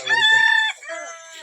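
A rooster crows close and loud before sunrise, one long ringing call that breaks off, followed by a fainter trailing crow.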